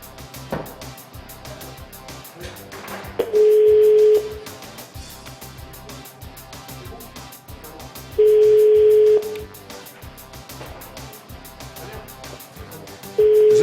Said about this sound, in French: Quatrième sonnerie. Ah, ça ne répond pas.